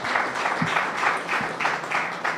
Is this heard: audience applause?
yes